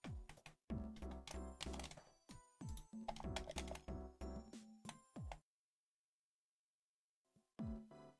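Computer keyboard keys pressed in quick bursts of clicky taps, close and crisp, then a few seconds of silence before another short flurry of keystrokes.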